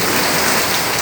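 Heavy rain pours down at a house gallery, with water running off the roof. A dense, loud, steady hiss of falling water continues unbroken, with no talking.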